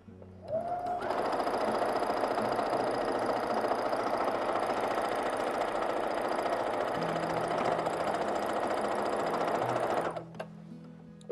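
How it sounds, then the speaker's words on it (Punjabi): A sewing machine runs steadily for about ten seconds, top-stitching fabric at an even, continuous buzz, near and alone with no talk. "ਤੇ ਹੁਣ ਅਸੀਂ ਉੱਪਰੋਂ ਸਿਲਾਈ ਕਰਨੀ ਸ਼ੁਰੂ ਕਰ ਦਿੰਦੇ ਹਾਂ ਨਾ।"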